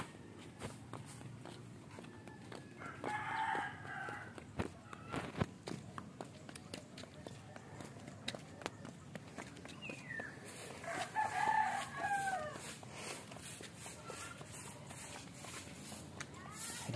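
Roosters crow twice in the distance over quiet outdoor ambience, with soft clucking and footsteps nearby.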